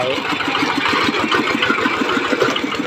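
An eleven-horsepower two-wheel walking tractor on steel anti-sink wheels idles loudly and close, its single-cylinder engine thumping in a steady, rapid rhythm with no pauses.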